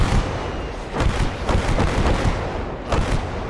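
Artillery and gunfire in the WWII strategy game Gates of Hell: Ostfront: a dense, continuous battle roar with repeated heavy booms and shots layered over one another, loud and steady throughout.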